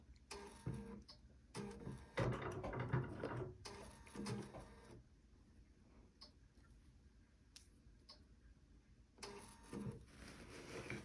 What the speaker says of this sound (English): I'm just going to lock my stitches